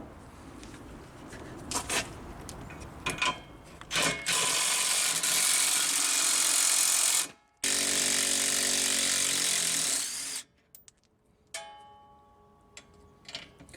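Power tools and hand tools work on the rear sway bar of a Ford Mustang GT, with loud bursts of impact-wrench whirring between softer clicks and ratcheting, one long run cut off abruptly, then quieter ticking at the end.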